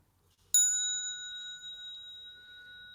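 A Buddhist temple bell gives a single bright metallic strike from near silence, its clear tones sustaining and slowly fading over several seconds.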